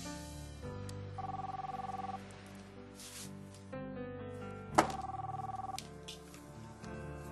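A telephone rings in an office, giving two sustained electronic ring bursts separated by a pause, with a sharp click before the second, over a low background of music and room tone.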